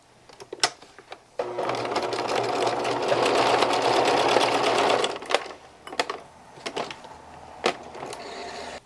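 Sewing machine stitching across the top of a shirt placket, a steady fast mechanical whir for several seconds, then stopping, followed by scattered clicks and handling noises.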